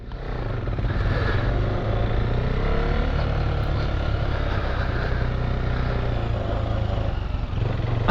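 A KTM motorcycle on a moto gymkhana course in Essex holds a steady, close engine drone for several seconds with no talk over it.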